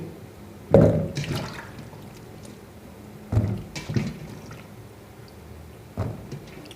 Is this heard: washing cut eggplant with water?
yes